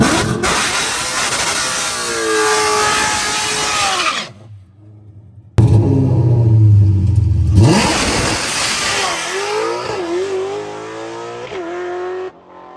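A turbocharged Ford Foxbody roars down the drag strip on a loud, close pass, the engine revving high through rising gear pulls, briefly cutting out with a low rumble before surging again.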